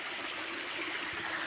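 Spring water swollen by heavy overnight rain flows steadily beside an old well, making a continuous soft rushing hiss for the whole short moment without any voices.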